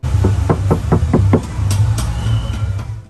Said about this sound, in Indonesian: Dan sekarang kita coba ketok panel Ground Zero Gold nya nih guys.